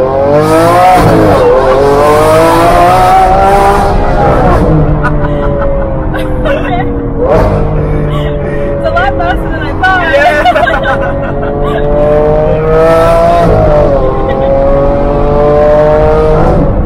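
A tuned Lamborghini Aventador, boosted to about 820 horsepower with an aftermarket exhaust, revs repeatedly in Miami Beach. The engine note climbs and falls in loud sweeping pulses while background chatter continues.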